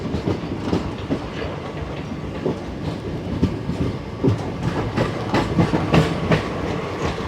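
A diesel-hauled Sabarmati Express train rolls along, loud and steady, with rhythmic clickety-clack of wheels over rail joints and a constant rumbling roar close by, no voices.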